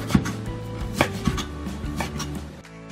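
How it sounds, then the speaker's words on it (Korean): Knife chopping fresh wild chives (dallae) into 4cm lengths on a cutting board, a few crisp, irregular cuts close by with no talking. "한 입에 먹기 좋게 4cm 길이로 적당히 썰어주시면 된답니다"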